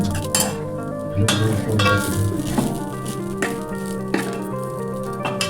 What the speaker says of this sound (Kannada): ಅನ್ನನ ತಿರ್ಗಾಡತಾನ ಈಗ ನೋಡ್ರಿ